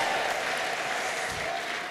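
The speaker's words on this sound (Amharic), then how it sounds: "ለእግዚአብሔር ልጅ ለጌታ ለኢየሱስ ክርስቶስ እልልታና ጭብጨባ አምጡ" A church congregation in Addis Ababa breaks into steady applause, a dense wash of clapping that continues at an even level with no clear voices over it.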